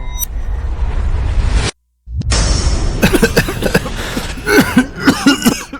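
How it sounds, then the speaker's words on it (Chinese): Several people cough in a busy outdoor street scene in an ancient capital during a smallpox outbreak, repeated sharp coughs cutting through a steady whooshing background after a brief silent gap. "你看那边有好多人在咳嗽，还捂着脸。"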